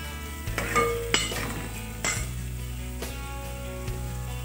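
Green and regular onions fry in ghee with a steady sizzle, broken by several sharp clinks and scrapes of a spoon against the pan and a low hum running underneath, with no talking.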